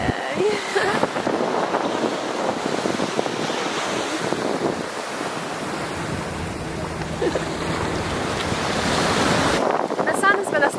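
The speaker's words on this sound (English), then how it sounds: "Finally at the beach." Surf washes steadily onto a beach in Costa Rica, with heavy wind buffeting the microphone throughout and a few faint voices near the end.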